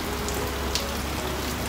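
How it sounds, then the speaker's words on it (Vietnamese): Heavy rain pouring steadily, a dense, even hiss of drops drumming on surfaces with no pauses and no voices. "Mưa bự á, phải mưa nhỏ mọi người"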